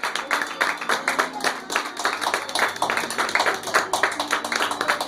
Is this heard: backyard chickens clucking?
no